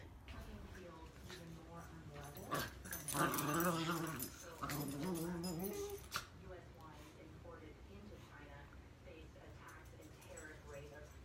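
Puppies in snow whimpering, yipping and growling as they wrestle, a busy scuffle of small dog sounds that swells in the middle and then eases, with a person's voice mixed in.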